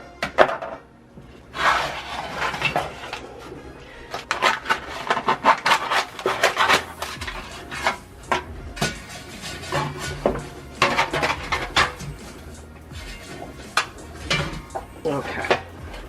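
Pizza dough made from two ingredients is handled and set into an air fryer, with repeated clatters, scrapes and rubbing knocks of a pan and basket close by. Scattered taps sound in between.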